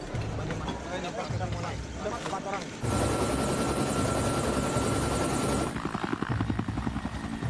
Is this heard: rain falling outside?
no